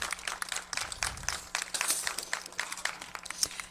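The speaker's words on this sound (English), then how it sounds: "let's have a round of applause for our San Diego State Aztecs champions, runner-up" Crowd clapping for the San Diego State women's tennis runners-up at the 2019 Mountain West championship, a modest scattered round of applause from a smallish outdoor audience, steady and unbroken.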